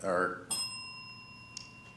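A bell rings once with a sharp strike and a clear, sustained ringing tone at a candidates forum for the Fairbanks North Star Borough in Alaska, right after a voice stops, followed by a faint second tap.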